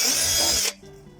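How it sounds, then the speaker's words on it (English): A power drill bores into a plastic barrel, its loud steady whine running for about 0.7 seconds before cutting off abruptly, leaving a quiet low hum and faint rattle. "Pro tip for when drilling the hole in a plastic barrel"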